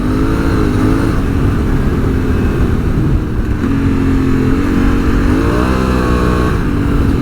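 A 2022 Honda Africa Twin motorcycle rides on gravel in gravel mode, its engine droning loudly and continuously with rising and falling revs, accompanied by rushing wind and road noise throughout.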